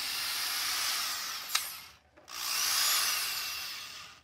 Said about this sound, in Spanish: aquí está el taladro ya conectado.